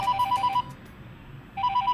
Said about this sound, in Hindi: किसका फोन आ गया?